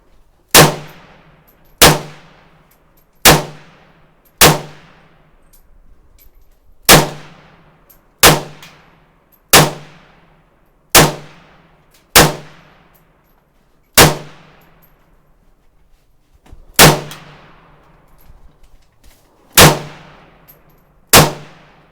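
Sig 556R rifle firing at an outdoor range, about fifteen sharp, loud reports spaced a second or two apart, each ringing out with a decaying echo, no talking.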